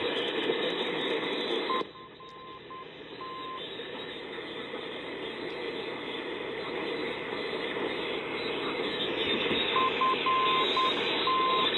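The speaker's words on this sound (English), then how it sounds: "hear that little buzzing in the background? That's still bleed through." A radio receiver gives off a steady background buzz and hiss from medium-wave bleed-through, continuous for the whole stretch, with short repeated electronic beeps near the start and again near the end.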